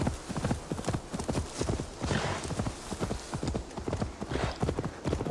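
Steady clip-clop of horse hooves in a brisk trotting rhythm, close and clear, continuing throughout without pause, from the video game Assassin's Creed Valhalla.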